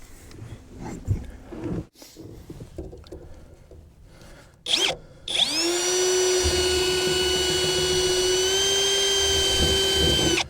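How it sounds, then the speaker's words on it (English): After some shuffling and clatter, a power drill with a step drill bit spins up and whines steadily at high pitch, boring through plastic for several seconds, loud and close. "We're going to use the Christmas tree bit."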